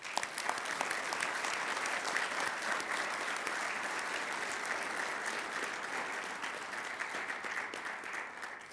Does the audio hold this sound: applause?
yes